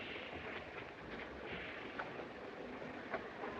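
A train rumbles steadily at a railway platform in a 1933 film scene, a dense low wash with faint clanks and clicks on an old, hissy soundtrack, with no voices over it.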